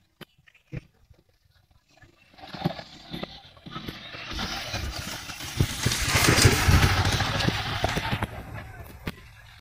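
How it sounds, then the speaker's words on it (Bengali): Yamaha MT-15 single-cylinder motorcycle with ABS being ridden, the engine swelling from faint clicks into a rising, revving roar, then tapering off. "MT-15 বাইকটা আমি এখন রাইড করব।"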